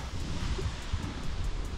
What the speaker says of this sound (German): Der Wind wird ein bisschen besser gerade.